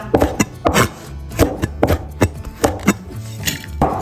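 A knife chops bird's eye chilies (xiaomila) on a cutting board, a close, crisp series of irregular sharp strikes, about a dozen over a few seconds, with no voices.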